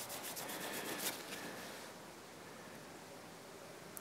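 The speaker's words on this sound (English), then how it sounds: "I'm letting the abrasive do its little job there, okay? And not trying to force it." A metal V block is lapped on a shop-made abrasive lap with light pressure, giving a soft, steady rubbing hiss that carries a rhythmic scraping texture early on and then smooths into a quiet, even grind.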